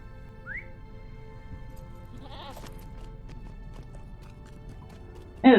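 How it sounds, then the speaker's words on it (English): A goat mount in the online game LOTRO bleats once near the start, then another bleat follows with a brief whistle-like call over a soft, steady background bed. "We get on a goat and we ride then."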